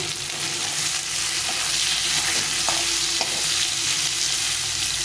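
Two large potatoes fry in hot oil in a pan for a bitter gourd fish curry, giving a steady, close sizzle with faint stirring scrapes throughout and no talking.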